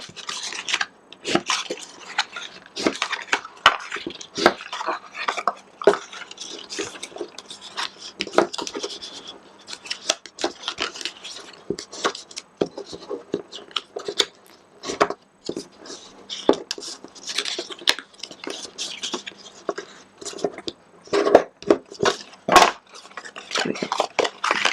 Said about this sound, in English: I'm just going to crease up those folds